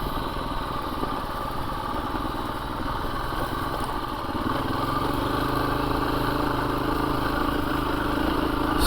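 A 2024 KTM 350 EXC-F dirt bike rolls slowly in second gear, its single-cylinder engine a steady close drone that firms up as the throttle opens slightly midway, with no voices.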